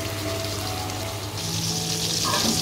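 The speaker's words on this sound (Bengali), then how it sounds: "আর এইদিকে দেখো আমি চাক চাক করে কাটা করলা আর পটল ভাজি করে নিচ্ছি" Sliced bitter gourd and pointed gourd frying, a steady hissing sizzle with a watery, rushing texture that swells louder toward the end, no speech.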